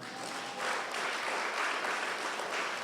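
Church congregation applauding during a sermon, a dense steady wash of clapping that swells after a brief softer start and stays even, moderately distant, with no talk over it.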